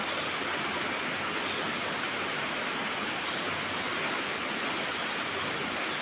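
Steady rain falling outdoors onto plants and foliage, a dense even hiss of drops that holds at a constant level from start to finish with no voices.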